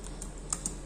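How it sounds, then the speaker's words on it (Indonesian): Light, quiet keystrokes come from a Logitech K380 Bluetooth keyboard used with an iPad: a few soft, close clicks tapped at an uneven pace over a low background, with no speech. "ketika saya mengetik dengan menggunakan keyboardnya itu tidak terlalu berisik, jadi suaranya halus"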